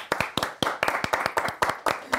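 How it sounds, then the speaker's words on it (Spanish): Audience members at a comedy show clap steadily for about two seconds, a dozen or so crisp, separate hand claps at a brisk, slightly uneven rhythm, heard alone without voices. "Un aplauso para Susana."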